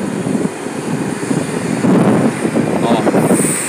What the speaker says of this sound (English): The sound of this aircraft is just good.